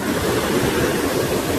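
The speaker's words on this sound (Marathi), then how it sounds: "बघा किती स्पीडने चालू आहे पाणी आणि एकदम थंड पाणी आहे" Fast-flowing cold water rushing nearby, a loud, dense, continuous wash with no voices.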